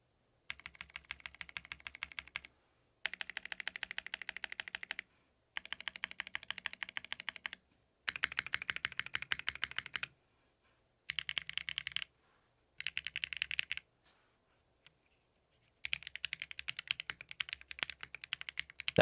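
Computer keyboard typing comes in bursts of rapid, crisp clicking, each lasting a couple of seconds, with short silent gaps between them. The clacking is close and clear, and no one speaks.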